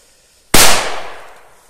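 A Maxsem P500 firecracker goes off in a single sharp, loud blast after a quiet moment, then its echo rolls away over about a second outdoors.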